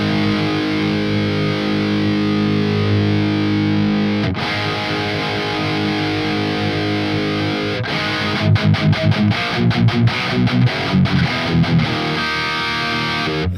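Electric guitar played through the Neural DSP Archetype Gojira amp plugin, heavily distorted: loud sustained chords ring for about eight seconds, then tight, rhythmic palm-muted chugs with short gaps, all alone with no talking.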